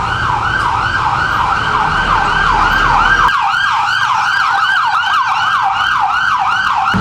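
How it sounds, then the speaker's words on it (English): Loud ambulance sirens wail continuously in an up-and-down pattern, passing close by over a low rumble of road traffic. "Why there's so many ambulance today?"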